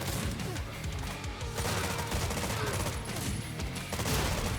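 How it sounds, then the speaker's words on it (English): Dense, continuous rattling gunfire mixed with booming blasts from the video game Terminator 2D: No Fate, loud and chaotic throughout, with no pause in the barrage. "Man, the explosions."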